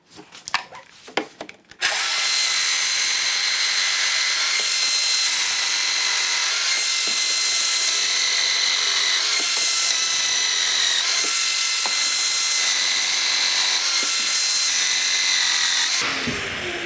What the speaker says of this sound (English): I'm going to mortise for dominoes in all of these rails